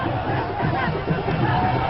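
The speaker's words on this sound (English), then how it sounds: "The president salutes the cheering crowd." Cheering crowd greeting Gambian President Jammeh as he stands in his official vehicle at his 2011 nomination event, a steady dense roar of voices and babble with no distinct pauses throughout.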